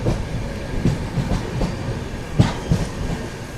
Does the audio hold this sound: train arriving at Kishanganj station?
yes